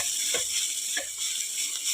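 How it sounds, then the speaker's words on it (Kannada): Ground coconut masala frying in a pan for masala chitranna, a faint, steady sizzle with a couple of soft scraping stirs. "ಈಗ ಇದನ್ನು ಚೆನ್ನಾಗಿ ಮಿಕ್ಸ್ ಮಾಡಿ ಫ್ರೈ ಮಾಡಿಕೊಳ್ಬೇಕು."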